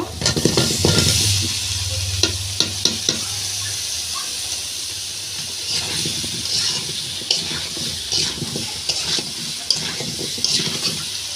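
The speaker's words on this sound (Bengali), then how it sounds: "এরপর ধুয়ে রাখা ওলগুলো সব দিয়ে দেব।" Washed elephant foot yam pieces hit hot oil in a frying pan and sizzle steadily, with clattering stirring and scraping spread throughout at close range.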